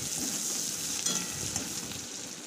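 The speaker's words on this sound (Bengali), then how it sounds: "পেঁয়াজটা এদিকে ভাজা হয়ে গেছে" Steady sizzling of onions frying in hot mustard oil, with a brief stir or scrape partway through; close and continuous, no voices.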